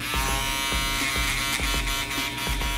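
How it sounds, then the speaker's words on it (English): An electric shaver buzzes steadily and loudly up close as it runs along a line on a shaved head, its hum pulsing faintly with the strokes. "now I'm going to be going down with my shaver right here on this line where I just created"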